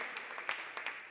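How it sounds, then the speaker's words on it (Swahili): Faint applause from a church congregation, a soft spread of clapping with a few louder bursts over about a second. "Applaudissons pour le Seigneur."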